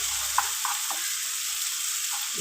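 Eggplant and two small tomatoes sauté in a hot pan, giving a steady close sizzle with a few soft stirring clicks and scrapes breaking through.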